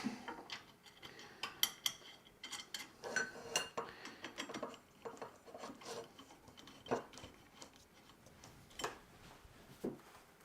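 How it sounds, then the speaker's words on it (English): A screw is driven in during assembly, heard as faint, close, irregular ticking, scraping and rasping clicks in uneven bursts, with no talking over them. "Get our second screw in here."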